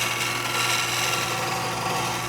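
A bowl gouge with a 40-40 grind cuts wood on a lathe, a steady close scraping hiss with a low motor hum beneath, continuous and even in loudness.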